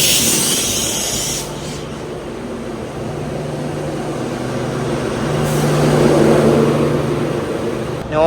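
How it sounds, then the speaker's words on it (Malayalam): A WP7 electric locomotive from the Valsad shed shunts a Northern Railway rake of the Goa Sampark Kranti Express, giving a steady low hum and rumble with hissing air, fairly close and continuous throughout. "വത്സാദ് ഷെഡിൻ്റെ ഒരു WP7 ആണ് ഇതിനെ ഷണ്ട് ചെയ്യുന്നത്"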